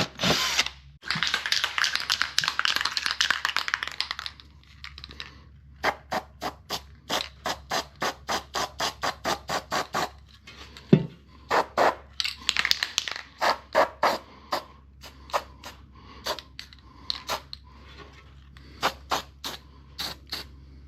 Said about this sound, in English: this is the spot where we need to drill a new hole, and then we're going to install this eye bolt